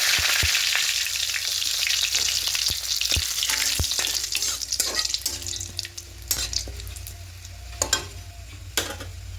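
Whole cumin, dried chillies and a bay leaf crackle and sizzle in hot oil for a Bengali bottle gourd and prawn dish, a steady close frying hiss with sharp pops and spatters, plus a few light stirring clinks.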